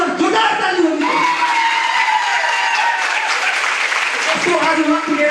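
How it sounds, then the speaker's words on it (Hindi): A loud, sustained round of applause and cheering from an audience honoring a group of mentors at an organized event, steady clapping filling the whole stretch with crowd voices mixed in. "सारे महागुरुओं की एक बार जोरदार ताली होगी।"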